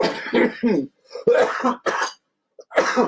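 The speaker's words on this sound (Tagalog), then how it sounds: "Inuubo tayo talaga eh." Several harsh coughs and throat-clearing bursts in quick succession, close and loud, separated by short silences.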